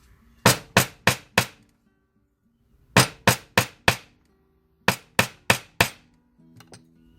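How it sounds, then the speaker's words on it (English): A hammer striking shaped wire on a wig jig to flatten and spread a serpentine wire snake, heard as three close bursts of four sharp metallic blows each, separated by short silences. "we could hammer it to spread even more too if we want"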